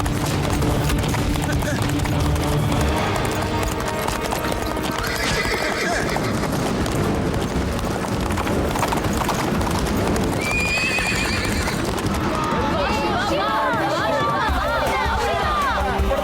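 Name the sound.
wild horse galloping and neighing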